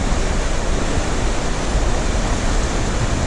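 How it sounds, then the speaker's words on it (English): Creek rapids at McConnells Mill State Park rush in a steady, loud, broadband roar of churning water, unbroken and with no voices. "nice view of the creek, nice rapids."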